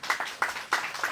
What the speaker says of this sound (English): Can we give her a round of applause too?